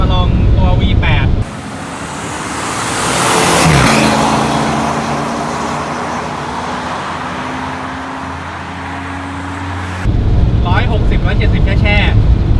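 A V8 car driving on the road, heard from inside as a steady low engine drone under wind and road noise, with louder rushing bursts at the start and end.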